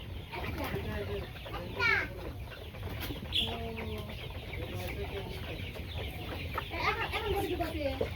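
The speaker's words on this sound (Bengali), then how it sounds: "ফার্ম ভর্তি মুরগি।" A poultry farm crowded with chickens of many colours, black, white and red, clucking and squawking in scattered bursts close by over a steady background murmur.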